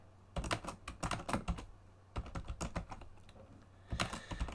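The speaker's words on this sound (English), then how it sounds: "You're going to hear my keyboard pounding here." Computer keyboard keys pounded in quick bursts of close, clattering typing, pausing briefly between runs, with a low steady hum underneath.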